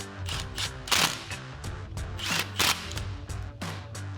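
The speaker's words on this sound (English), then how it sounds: "we'll snug that up with our 15mm socket" A ratchet with a 15mm socket snugs an exhaust adapter pipe clamp on a 2015-2023 Mustang EcoBoost, giving close, sharp clicking bursts in quick uneven runs with brief pauses between strokes.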